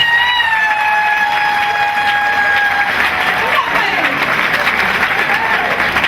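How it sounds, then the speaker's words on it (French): Sustained audience applause at a French-speaking gathering, a steady dense wash of clapping lasting throughout, with some thin high tones running through it. "Applaudissez."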